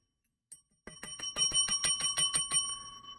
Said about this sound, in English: Can you hear that bell?